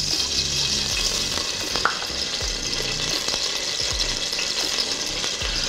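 Oil heating in a pan crackles and sizzles with a steady, dense hiss throughout, with a few faint clicks and pops; no voices.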